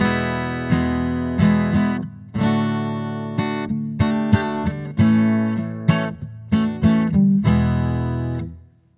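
Acoustic guitar played through a NuX Optima Air preamp pedal, a run of plucked notes and strummed chords with sharp attacks and ringing decay, clear and alone with no talk.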